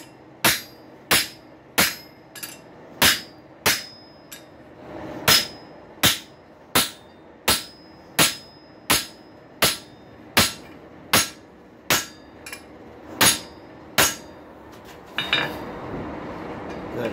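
Hammer blows on a rail spike over an anvil, about twenty sharp metallic rings at a steady pace of roughly one per second, close and clear, ending in a brief scraping rustle.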